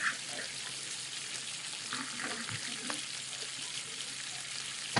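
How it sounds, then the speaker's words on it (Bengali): Chicken boils in plenty of water in a pot, heard as a steady, quiet bubbling and hiss that stays even from start to finish. "দেখতেই পাচ্ছেন কিরকম ফুটছে।"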